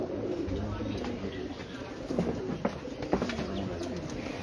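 A breeder pigeon coos in low repeated murmurs amid soft rustling and a few sharp clicks, with steady background noise throughout.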